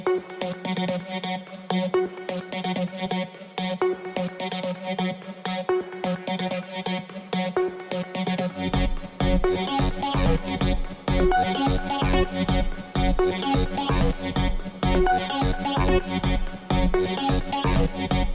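A funky house intro track with effects plays back. Filtered synth chords and melodic stabs open it, then a thumping four-on-the-floor kick and bass come in about halfway. The mix grows fuller and louder, with no speech over it.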